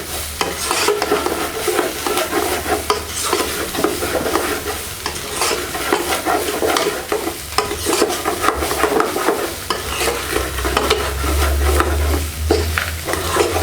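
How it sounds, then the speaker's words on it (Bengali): Uncooked rice stir-fried in a pan over medium-low heat, a continuous dry rustling sizzle broken by frequent scraping strokes of a spoon against the pan, close and steady with no talking. "চাউলটাকে ভেজে নেবেন"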